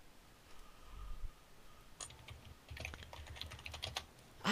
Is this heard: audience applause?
no